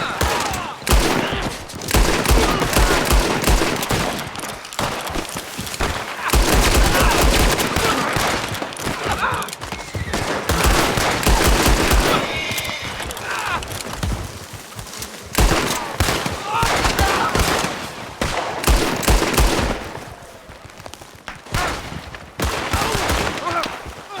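Rapid bursts of gunfire from a video game gang fight between rival crews, loud and dense, with volleys and automatic fire repeating throughout and brief quieter gaps between the barrages.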